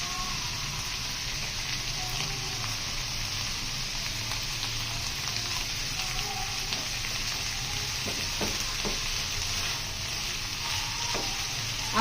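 Macaroni with chicken, spices and ketchup sizzling and frying in a pan, a steady close hiss running throughout with occasional faint clinks, no talk.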